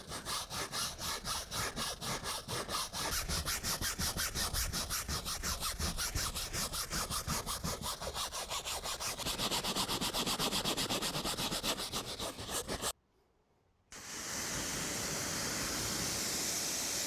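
A brush scrubs mould off the fabric roof of a 20-year-old Porsche Boxster, making loud, rhythmic rasping strokes that run continuously, pause for about a second, then resume as a steadier rough scrubbing.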